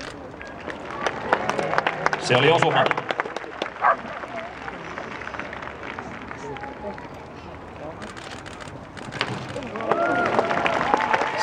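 Outdoor spectators applaud after a hit at a samurai horseback archery (yabusame) event in Helsinki, clapping in a scattered, sustained patter while a commentator talks over it and hoofbeats and crowd murmur fill the background.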